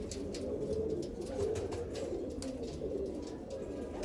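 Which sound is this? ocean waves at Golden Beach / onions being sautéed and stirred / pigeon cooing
pigeon cooing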